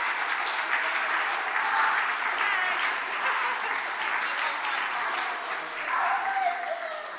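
An audience at a church holiday club celebration claps steadily and fairly loudly for several seconds, a dense, even patter of many hands that swells slightly near the end.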